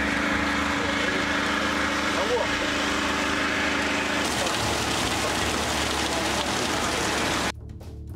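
A DAF truck burning after a highway crash, a steady roaring, crackling blaze with dense broadband noise and low engine-like rumble, loud and continuous, dropping in level near the end.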